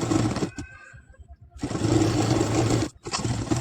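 A tailor's sewing machine stitches an Arabic jubba robe, running a double line of stitches. The machine runs in two close, steady bursts separated by a brief pause, with no talking.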